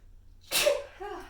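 A single sharp sneeze bursts out close to the microphone, followed by a brief breathy trailing sound.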